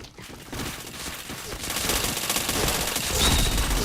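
Rapid automatic gunfire in a video game shooter, dense continuous bursts that build in loudness, with no talk.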